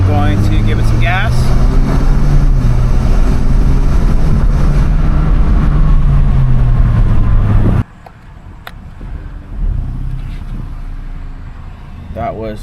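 An Alfa Romeo Giulia engine fitted with a Mishimoto charge pipe revs up to a loud, steady roar with rising and falling pitch, then cuts off abruptly, leaving quieter idle and ambient noise.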